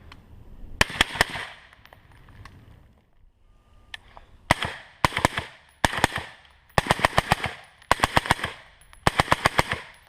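Suppressed shots from a Remington 700 rifle in 300 Blackout with 220 grain Harvester rounds and a Rugged Radiant suppressor, a long string of sharp close cracks in quick bursts of two to four, separated by short pauses.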